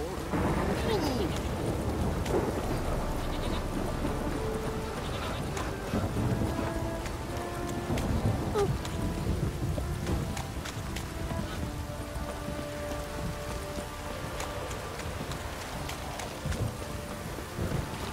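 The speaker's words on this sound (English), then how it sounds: "Midges reporting on account of this downpour." Heavy rain downpour with rumbling thunder in The Witcher 3 video game, a steady dense wash of rain throughout with low rolling rumbles, and a voice talking over it.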